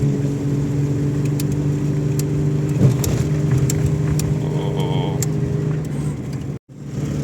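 A Seat Ibiza engine hums and revs steadily at close range for several seconds, then cuts out briefly near the end before resuming.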